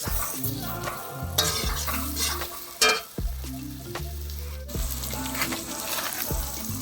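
Black pepper, green chilli and tomato going into a hot frying pan, a soft sizzle with repeated stirring scrapes and a couple of sharper clinks, fairly quiet and without talk.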